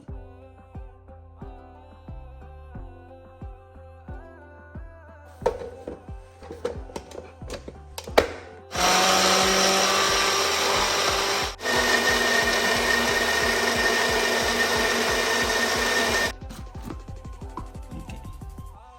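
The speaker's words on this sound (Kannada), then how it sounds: "ಸ್ವಲ್ಪ ಇದು ಗ್ರೈಂಡ್ ಆದರೆ ಸಾಕು" A mixer grinder grinds green chillies in a kitchen, its loud motor roar running for several seconds in one main burst after some tapping and handling sounds, then cutting off.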